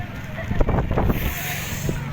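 Gusty wind rushes and buffets the microphone outdoors in drizzly weather, a low roaring bluster with a few faint voices mixed in.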